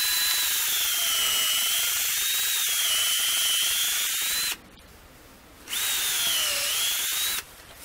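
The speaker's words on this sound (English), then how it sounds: "using a 5/16 drill bit, we're going to first drill our tap hole" A cordless drill with a 5/16 bit whines loudly in two long runs boring a tap hole into a small maple tree, its pitch wavering as it bores, with a brief quiet pause between.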